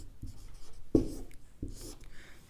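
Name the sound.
writing Hindi by hand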